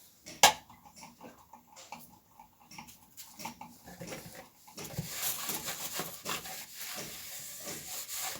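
Dishes, pots and pans are washed in a home kitchen, with soft clinks, rubbing and scraping of crockery and utensils, then steady running water in the second half.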